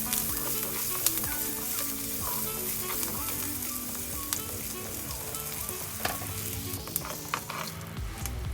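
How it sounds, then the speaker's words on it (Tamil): Sliced shallots and curry leaves sizzle steadily in hot oil with mustard seeds and fenugreek, stirred now and then with a few scraping clinks, a close, continuous frying hiss with no talk. "இப்போ இது கூட கொஞ்சமாக கட் பண்ணி வச்சிருக்க சின்ன வெங்காயமும் கருவேப்பிலும் ஆட் பண்ணி நல்லா வதக்கிக்கிறேன்."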